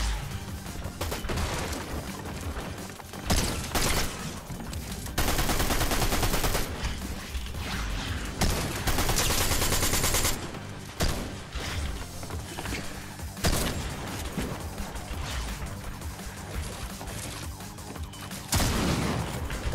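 Gunfire in the Fortnite video game, with dense bursts of rapid shots and loud blasts that come and go across the clip, mixed with game effects and occasional mechanical clatter.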